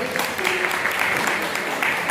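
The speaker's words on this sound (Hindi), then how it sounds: "तालियां।" Steady audience applause fills a music therapy session by a mental health counselor, a dense, continuous wash of many hands clapping at close range with no break.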